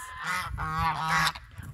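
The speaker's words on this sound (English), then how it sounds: "Our four geese." Four farm geese honk nearby in quick overlapping calls, three loud nasal blasts in a rough rhythm, then fading into quieter background noise.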